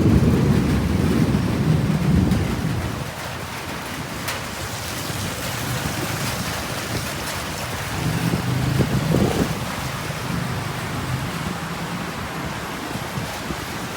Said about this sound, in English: a massive thunderstorm started, which is still going on now